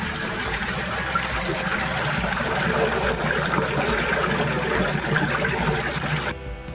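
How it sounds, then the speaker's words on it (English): A Maytag washer's drain pump runs steadily as water gushes and flows out, a loud continuous wash of liquid noise that cuts off abruptly near the end. "You can definitely hear the drain pump running now, and water's flowing out like it should."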